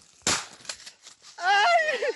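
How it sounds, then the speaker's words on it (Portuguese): Police fire rubber bullets at workers: one sharp, loud bang stands out, followed by a couple of fainter cracks, then a raised voice or wailing tone. "Em seguida, ouve-se o som de tiros."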